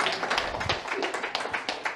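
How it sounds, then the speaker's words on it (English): Audience clapping at a luxury interior design panel event in Greenwich, Connecticut, a short burst of applause of moderate loudness with dense overlapping hand claps. "Give a round of applause for ChatGPT."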